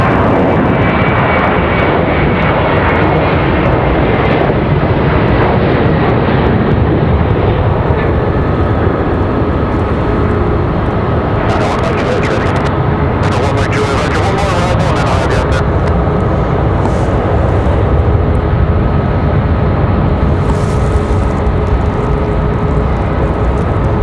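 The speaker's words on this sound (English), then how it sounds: "Yep, Delta 1699 off to Atlanta." A Delta jet airliner bound for Atlanta takes off from Raleigh-Durham airport, a loud, continuous engine roar with steady whining tones throughout, with some talk over it.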